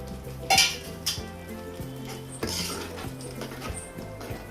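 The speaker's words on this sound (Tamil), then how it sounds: "அந்த மசாலா தண்ணியும் அதில் ஊற்றிக்கிங்க." Masala water is poured into a hot pan for a sardine curry, bringing a sizzling hiss along with several sharp metallic clanks of utensils against the pan, heard close and alone.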